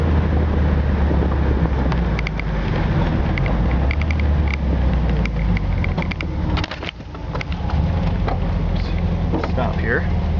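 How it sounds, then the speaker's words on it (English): 1976 VW Super Beetle 1500 convertible with a rebuilt engine, a steady low drone while driving, mixed with wind buffeting and road rumble, with brief muffled dips near the middle. "Engine purrs like a kitten. It's a 1500."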